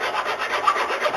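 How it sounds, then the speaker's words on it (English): A close, steady rasp of a file scraping back and forth across the wood of a longbow in quick strokes, with no voices. "Filing."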